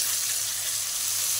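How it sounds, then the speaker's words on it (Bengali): Shredded cabbage drops into hot oil in a pan and hisses in a steady, close sizzle that holds evenly throughout, with a faint low hum beneath and no voices. "এবার আমি বাঁধাকপিগুলো দিয়ে দিলাম,"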